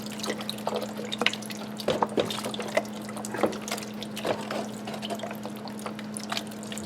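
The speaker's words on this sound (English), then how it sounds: "And then we're gonna get in with a little beef broth." Beef broth pours over a pot roast, soft trickling and dripping splashes with a faint steady hum beneath, quiet and close, with no talking.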